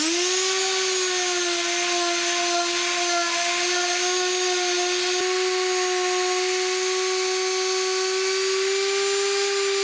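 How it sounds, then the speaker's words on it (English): A palm sander with 150 grit paper runs on a cast iron table top, giving a steady, close, high-pitched motor whine with a faint gritty scratch that holds for about ten seconds with no talk. "there's a ring over here with a 150 grit on a palm sander"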